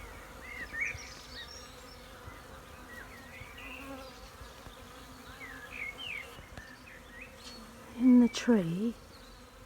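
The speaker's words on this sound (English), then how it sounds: "now I've got quite a lot of bees" Honeybees hum and buzz around a bait hive in a tree, with a steady swarm drone and individual bees zipping past near the end; a person speaks briefly.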